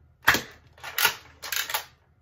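A Nerf Raptorstrike blaster fires several close, snappy pops in quick succession, each a short dry burst, with the last two nearly doubled, in a quiet room.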